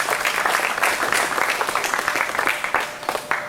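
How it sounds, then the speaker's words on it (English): Audience at a county fair meat goat show claps steadily after the breeding doe class, a dense, even round of applause that holds throughout without voices over it. "would everyone please give them a round of applause"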